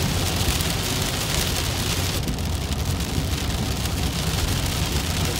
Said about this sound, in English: And now it's about to stop raining.